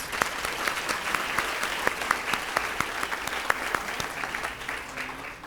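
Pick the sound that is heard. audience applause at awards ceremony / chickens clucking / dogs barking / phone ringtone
audience applause at awards ceremony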